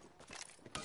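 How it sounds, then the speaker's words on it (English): Weapon reloading in a video game: a brief run of mechanical clicks and ratcheting clacks, fairly faint, ending in a sharper snap. "Reloading."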